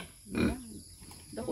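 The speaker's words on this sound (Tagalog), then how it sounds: "Dalawang baboy, isang inahin." Pigs, one of them a sow, giving a couple of short low grunts and snorts, faint and close by with no talking.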